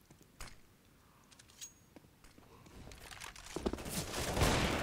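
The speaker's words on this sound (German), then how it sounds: "Guter Schuss von Dev" Bursts of rifle gunfire in a Counter-Strike match on Dust II, a professional tournament game: scattered sharp shots early, then a thickening, louder volley of fire building toward the end.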